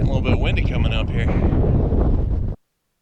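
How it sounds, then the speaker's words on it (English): Strong wind buffets the microphone on a mountain peak near Albuquerque, loud, close rumbling gusts that roar continuously for about two and a half seconds before cutting off abruptly. "This is how much wind we have right now."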